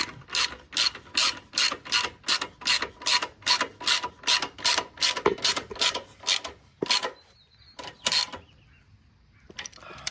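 Rapid rhythmic ratchet clicking tightening a bolt on a Lexus GS300, a steady run of about a dozen strokes, then a pause and a couple more clicks, close by.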